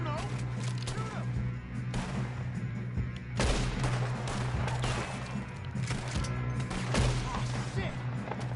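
Gunfire in the Red Dead Redemption 2 video game, a dense run of loud shots and crashing impacts lasting throughout, with a player's voice cutting in between the blasts.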